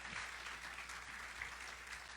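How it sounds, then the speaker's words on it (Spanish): A church congregation applauds the Lord during a sermon, a faint, distant, continuous patter of clapping over a low hum. "Dele un aplauso grande al Señor, y a Él sea la gloria y la honra"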